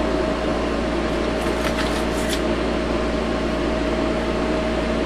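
A ZVS induction heater runs with a large bolt inserted in its 2.5-inch work coil, giving a steady, loud electrical hum with a constant buzzing tone and a brief hiss near the middle, continuous throughout.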